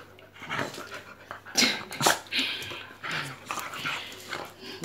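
Several pet dogs whimper, yip and give short barks while playing indoors, close and lively, in uneven bursts with occasional scuffling between them.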